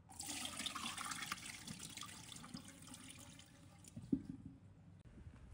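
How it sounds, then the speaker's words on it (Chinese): Dirty water from soaking and washing grapes pours out of a bowl into a sink, a steady splashing gush that tapers off, with a brief clunk near the end. "随后倒掉脏水"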